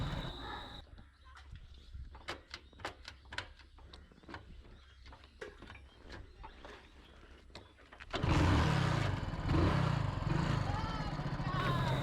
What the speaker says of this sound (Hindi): So finally बाइक तो स्टार्ट हो गई है.